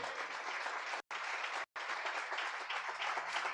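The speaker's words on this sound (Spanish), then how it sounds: "Un aplauso al Rey bendito." A church congregation gives steady applause during a worship service, even dense clapping at moderate level, broken by two very short dropouts.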